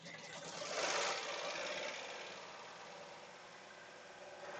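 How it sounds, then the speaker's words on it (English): A Melco embroidery machine stitching out a design, a fast, continuous mechanical whir and rattle, close and fairly quiet, with no talking over it. "now we're going to work on some camera angles while that's stitching out a little bit"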